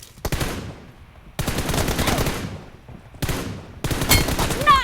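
Gunfire in the mobile game PUBG Mobile during a team deathmatch, with three loud close bursts of rapid automatic fire separated by short gaps.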